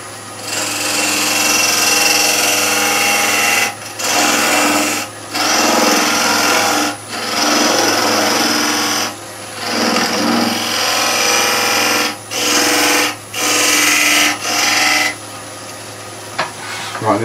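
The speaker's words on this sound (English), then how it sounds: "Lathe speed is zero, turn the machine on." A wood lathe turning tealight holders runs with a steady low motor hum under loud broadband rasping that breaks off in short, regular pauses, then resumes.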